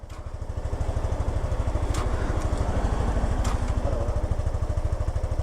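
Bajaj Pulsar NS 200 motorcycle idling just after being started, a close, steady rapid putter with even thumping pulses and no voices over it.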